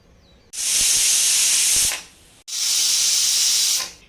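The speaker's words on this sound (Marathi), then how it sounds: "चला आता दोन शिट्या झालेल्या आहेत आपण कुकर उघडून बघूया" Two long, loud hissing blasts of steam come from a pressure cooker whistle in a home kitchen, separated by a short pause, close and alone.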